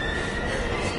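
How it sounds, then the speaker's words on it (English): A brief burst of video game train noise, a steady rumbling rush with high metallic squealing tones riding over it. "We've got to get on that train, Ethan"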